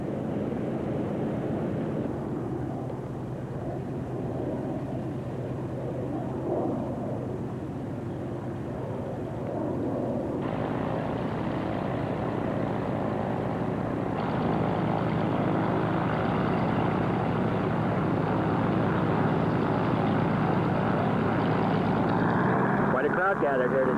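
Northrop N9M flying wing propeller aircraft taxiing toward the takeoff area, a steady droning engine hum that swells louder partway through, with a voice talking over it now and then.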